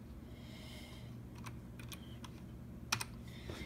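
Someone types a password on a PC keyboard in a gaming setup: a few scattered soft key clicks, then a brief cluster of sharper taps, quiet and close over a low room hum, with no talking.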